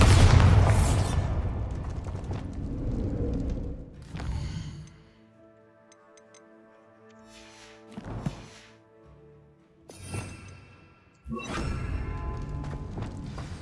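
A Bombarda spell blast in Hogwarts Legacy, a deep booming burst at the start that settles into ringing, chiming game tones, with further thumping impacts later on.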